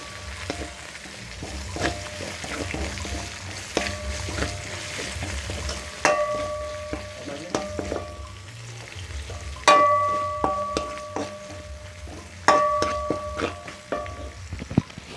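Chicken tempering with green chillies sizzles steadily in a pan, while a spoon scrapes and clinks against the metal in repeated bursts of stirring.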